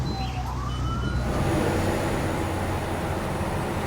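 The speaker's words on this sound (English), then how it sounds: "Oh, I hear a siren." A wailing police siren rises and sweeps over loud, steady road and engine rumble from a car moving at about 135.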